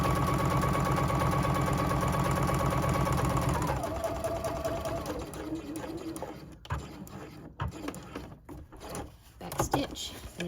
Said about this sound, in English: sew across the seam, come back, raise my needle, line it back up the correct distance that I want from my center seam, lower the needle, back stitch again